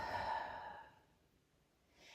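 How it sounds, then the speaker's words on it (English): A single slow exhale through the mouth, soft and breathy, fades out over about a second, followed by faint quiet breathing at the end. "and then an exhale through your mouth."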